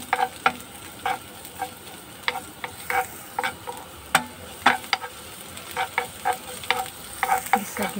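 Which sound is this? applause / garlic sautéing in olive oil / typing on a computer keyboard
garlic sautéing in olive oil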